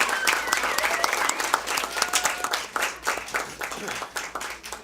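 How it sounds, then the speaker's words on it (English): Audience applause fills a school board meeting room for two honored staff members, a sustained wash of many clapping hands at steady loudness that gradually thins toward the end, with some background voices mixed in. "Let's give them another big round of applause."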